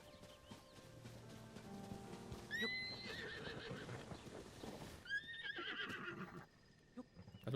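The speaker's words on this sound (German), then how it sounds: "Oh, das Pferd ist ja führerlos." A riderless horse in Zelda: Tears of the Kingdom gives two whinnies amid clip-clopping hooves and faint birdsong, moderately close but quiet overall, with no talking.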